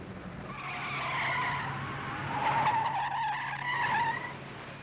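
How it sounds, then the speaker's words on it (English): A 1988 Chevrolet full-size pickup brakes hard with its left wheels on a nearly tractionless artificial surface and its right wheels on dry pavement, giving wavering tire squeals and skidding that swell and fade over several seconds. "This special demonstration dramatizes how a traditional pickup brakes under extraordinary driving conditions."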